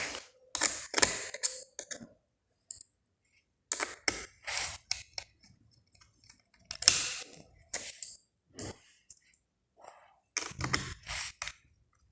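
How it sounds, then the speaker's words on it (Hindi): A screwdriver tightens screws on an HP Pavilion Gaming 15-ec1050ax laptop during a repair, giving close, intermittent clicking and ratcheting bursts separated by quiet pauses. "फिर अभी स्क्रू टाइट कर लेता हूँ"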